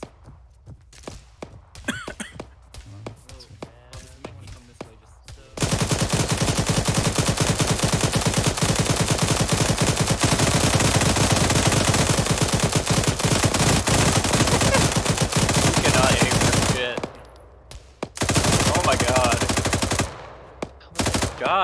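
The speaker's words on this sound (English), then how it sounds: "We're getting shot at." Heavy, sustained machine-gun and rifle fire from an Arma 3 combat scene in Chernarus, a dense continuous barrage lasting many seconds, with sparser shots before and after and a brief lull near the end.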